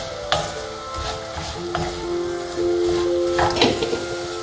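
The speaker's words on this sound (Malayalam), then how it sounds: "ഓയിൽ ചൂടായി വന്നിക്കണേ, അതിലേക്ക് ഉള്ളി ഇട്ട് കൊടുക്കാം. നന്നായിട്ട് വഴറ്റി കൊടുക്കാം." Chopped onions sauté in hot oil in a pan, giving a steady close hiss with a few brief scraping stirs, over tonal music in the background.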